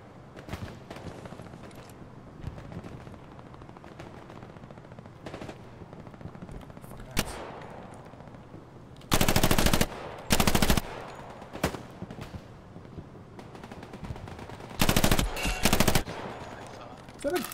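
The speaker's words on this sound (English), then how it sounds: "is someone really shooting at me?" Machine gun fire in the Hell Let Loose console game, with scattered distant shots and then several loud, close bursts of rapid automatic fire over low background battle noise.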